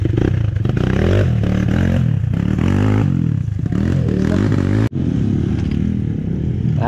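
Motorcycle riding along a road from General Tinio to Dingalan, an XR fitted with a Rusi engine, its engine droning steadily and close throughout with a brief dropout near the end, no talk over it.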